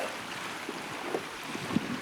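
Wind blowing hard at sea around a small ocean rowing boat in the Atlantic, a steady broadband rush with faint water slaps and creaks, no talking.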